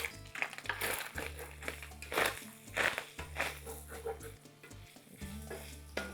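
Seasoned lasagne meat filling sizzles in a hot pan while a spoon stirs and scrapes through it, a close, steady frying crackle with rhythmic stirring, no talk.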